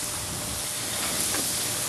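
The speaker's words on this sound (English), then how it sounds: "That sizzle means that my burgers are going to cook just right." A steady broadband hiss of burgers sizzling on a preheated grill, continuous and fairly close with no talking.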